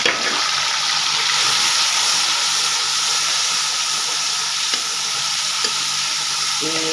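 Onions and red tomatoes sizzle loudly in a pan for a Punjabi aloo chicken curry, a steady close hiss of frying with occasional stirring scrapes throughout and no talking.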